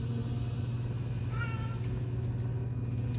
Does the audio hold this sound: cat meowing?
yes